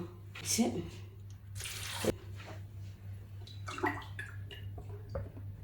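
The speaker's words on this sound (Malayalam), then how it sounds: "2 കപ്പ് വെള്ളം ഒഴിച്ച്" Two cups of water run and splash briefly into a pot of chopped onion and ginger for chicken sambar, over a low steady hum, with a few small clinks and gurgles.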